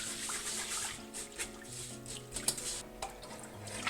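Rice is rinsed under running water to remove starch, with a steady trickle and splash, light knocks against the bowl, and no voices.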